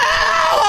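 A woman screams loudly and continuously while struggling against police officers trying to handcuff her during an arrest, a sustained high-pitched shriek with no pause.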